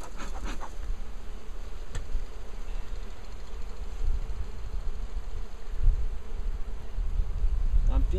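Honeybees buzz in a dense, continuous hum close by in an open survivor hive, with occasional soft knocks and rustles over the steady drone.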